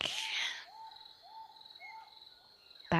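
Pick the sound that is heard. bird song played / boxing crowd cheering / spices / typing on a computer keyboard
bird song played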